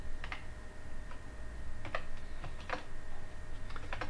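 Keys clatter in irregular clicks and short bursts on a computer keyboard while HTML heading tags are typed in Notepad++ for a web page, close and alone over a faint steady hum.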